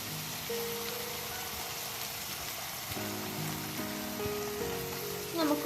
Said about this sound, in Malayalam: ഇനി നമുക്ക് ഇതിലോട്ട് 1/2 കപ്പ് വിനാഗിരി ഒഴിച്ചെടുക്കാം